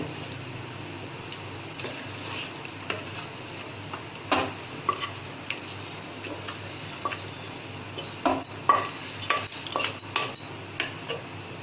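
Mango pulihora mixture being mixed into cooled rice, soft clinks and scrapes of a spoon against a vessel at an uneven pace over a low background hum, close and moderately quiet.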